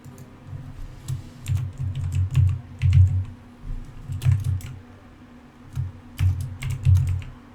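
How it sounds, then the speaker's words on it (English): Typing on a computer keyboard while entering a book title in Shroud of the Avatar, close and fairly loud, with bursts of rapid keystrokes separated by short pauses and no talk. "you have to hear the typing of the keyboard because you have to type in the title"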